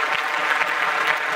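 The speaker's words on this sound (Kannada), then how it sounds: "ಜೊತೆ ಚಪ್ಪಾಳೆ ಬರ್ಲಿ ಮುದ್ದಾದ ಕುಟುಂಬಕ್ಕೆ" Steady applause from a studio audience on a Kannada family dance show, dense continuous clapping filling the whole moment at even loudness with no voices over it.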